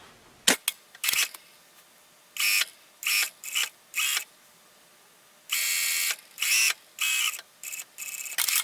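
A sewing machine stitches a sleeve seam with the undersleeve underneath to ease in fullness. Its motor runs in short, loud stop-start bursts of about half a second to a second, separated by quiet pauses, with no talking.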